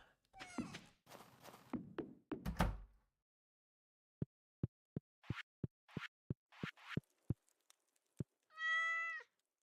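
A cat meows inside the video game Stardew Valley, amid short game clicks and thunks, ending with one clear, drawn-out meow.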